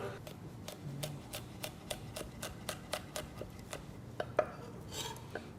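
A knife chops green chilies for khaman dhokla with a quick, regular series of sharp taps on a board, close and fairly quiet, with faint kitchen background.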